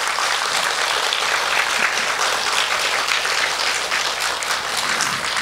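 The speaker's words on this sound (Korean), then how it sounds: "공감하신다면 여러분 박수 한번 쳐주십시오." A lecture audience in a hall claps steadily, loud and sustained throughout, with no voice over it.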